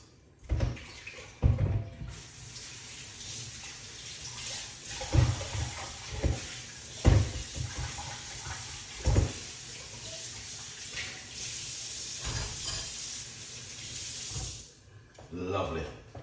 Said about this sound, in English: Wash off these carrots.